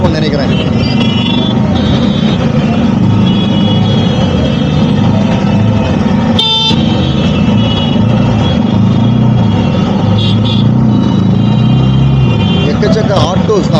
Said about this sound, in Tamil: எக்கச்சக்க ஆட்டோஸ் தான். ஆட்டோஸ்னால தான் டிராஃபிக்கே பிளாக், ரோடே பிளாக்.